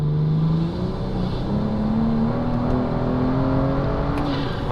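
A turbocharged 600-horsepower car accelerating hard, its loud engine tone climbing steadily in pitch through a sustained pull with no speech over it.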